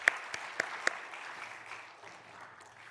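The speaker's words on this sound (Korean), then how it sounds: "다시 한번 우리 새 가족분들을 위해 박수로 축복해 주시면 감사하겠습니다." Clapping from a church congregation welcoming new members at a graduation ceremony, a few sharp individual claps standing out at first before settling into soft, thinning applause that fades toward the end.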